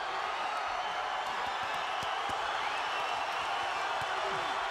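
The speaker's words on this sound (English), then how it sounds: "Crowd is loving it" A boxing arena crowd roars steadily through the final seconds of the Mike Alvarado vs Mauricio Herrera fight, a dense, continuous wash of cheering and shouts with scattered sharper whoops.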